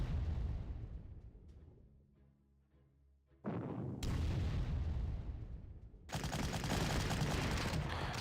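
Artillery bombardment from the wartime strategy game Panzer Corps, set during the invasion of Greece: loud booming volleys that trail off, a brief near-silence, then renewed heavy bursts of cannon fire continuing to the end.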